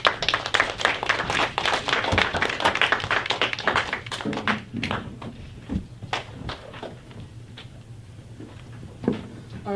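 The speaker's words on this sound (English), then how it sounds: "Give them a round of applause." An audience at a school debate gives a round of applause, a rapid clatter of claps that is loud at first and thins to scattered claps.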